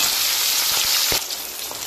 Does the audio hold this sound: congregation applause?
no